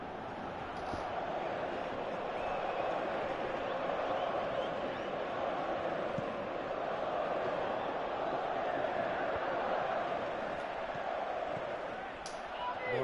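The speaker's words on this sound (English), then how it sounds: "you can feel and hear how the crowd are reacting to all of this" Stadium crowd in Pro Evolution Soccer 2018, a steady roaring murmur sustained throughout with a commentator talking over it.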